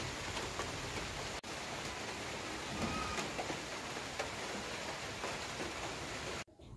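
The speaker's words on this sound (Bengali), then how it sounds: "আর বাড়ি আসার পরেই বৃষ্টি নামা শুরু হয়ে গিয়েছে।" Steady, loud rain pours down around a house, a dense continuous hiss of drops with a couple of abrupt brief dropouts, no voices over it.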